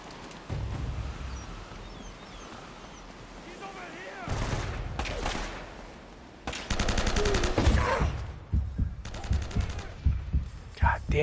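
Gunfire erupts in the video game Uncharted: Drake's Fortune. After a quieter opening, loud bursts of rapid automatic shots start at about four seconds and repeat in dense volleys until the end.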